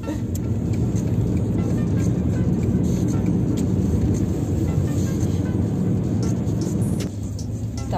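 Car driving on a road, heard from inside as a loud steady rumble of engine and road noise that drops slightly in the last second.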